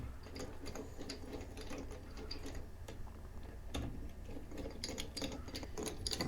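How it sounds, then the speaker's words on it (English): Screwdriver tightening furniture connecting nuts while a flat-pack cot bed is assembled, giving a steady run of close, small ratcheting clicks and ticking mechanical rattles throughout with no talk. "I tightened it down with the screwdriver."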